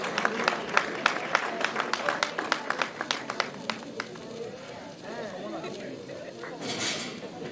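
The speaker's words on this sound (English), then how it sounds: "Please give him a warm round of applause." Audience applause for a journalism award winner at the Sierra Leone Association of Journalists awards ceremony, with sharp claps at first that thin out into crowd murmur.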